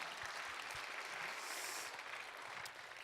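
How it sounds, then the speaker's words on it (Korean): A church youth-service congregation applauds, a steady, fairly quiet wash of clapping that continues evenly throughout. "우리 수고하는데 우리 성주 선생님 박수 한번 쳐줍시다."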